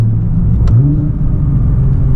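A Nissan GT-R Nismo accelerates hard with a deep, loud engine rumble that rises in pitch as it pulls, steady and close with no talk.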